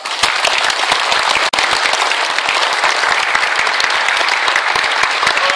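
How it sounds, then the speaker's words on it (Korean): Loud, steady applause from an audience at an indoor presentation, dense clapping continuing throughout with only a momentary dip. "큰 박수를 또 부탁드리겠습니다"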